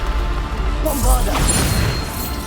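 A Bombarda spell blast in Hogwarts Legacy, a booming crash with whooshing magical effects and ringing tones layered over loud game combat noise.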